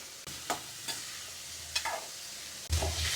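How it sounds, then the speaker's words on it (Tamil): Onions and tomatoes sautéing in a home pan for a fish curry sizzle steadily, broken by several sharp stirring scrapes of a spoon and a louder clatter near the end, with no voices. "நல்லா இப்போ வணக்கிக்குவோம் நல்லா வணக்கி அரைக்கிறதா வேணும்"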